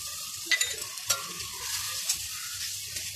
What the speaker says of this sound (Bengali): এটা একটু মশলাটা কষিয়ে নিতে হবে ভালো করে।